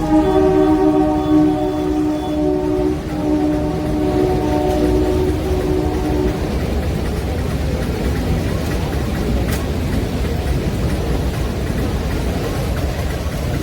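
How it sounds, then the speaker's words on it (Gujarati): A loud train horn blares for several seconds at a closed level crossing, then the heavy rumble of a passing meter gauge train rolls on steadily and close. "અમારી મીટર ગેટ ટ્રેન જાય જો"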